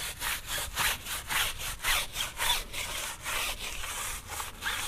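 A tire brush scrubs a car tire in quick back-and-forth strokes, each pass a rough, hissing rasp, close and steady for several seconds with no talk.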